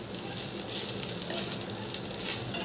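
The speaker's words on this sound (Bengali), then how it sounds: "বাড়িয়ে ভালো করে ওপর নিচ করে ভেজে নেব।" Okra frying with grated coconut in a pan, a steady close sizzle with light crackling and the occasional stir.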